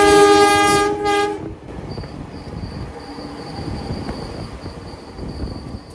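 The horn of the Kamandaka passenger train blasts loudly as it departs Cilacap station in Indonesia, then cuts off, leaving the low rumble and rattle of the train rolling along the tracks with a faint high whine.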